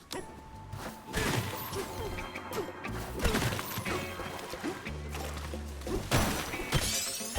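Smashing and shattering in the video game Donkey Kong Bananza: a run of crashing, breaking impacts with whooshes and thuds, dense and fairly loud, with no talking.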